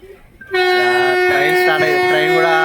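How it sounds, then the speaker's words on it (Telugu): A loud, sustained train horn blares at a railway station, starting abruptly after a quiet moment and holding a rich, steady tone throughout. "ట్రైన్ కూడా హార్న్ తీసేసాడు."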